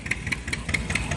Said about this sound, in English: Is that a tractor?